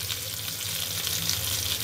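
Potatoes sizzle in hot oil in a pan with a steady, dense crackle that holds at an even level throughout, close and alone with no voices.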